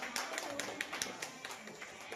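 A small group in a free care centre claps in a quick, uneven patter of hand claps for about two seconds, with voices briefly heard alongside.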